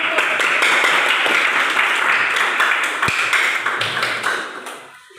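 A classroom of students claps together, a dense, fairly loud patter of many hands that runs steadily for several seconds, then tails off near the end.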